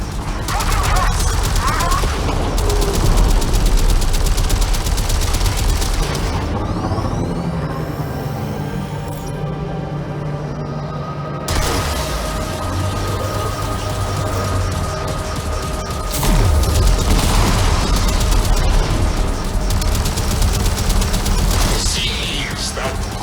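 Railjack torpedo launches and weapons fire in a space battle in Warframe's Empyrean mode, a dense, loud barrage of booms and rapid shots that drops out briefly midway, then resumes heavily, with voices calling out over the action.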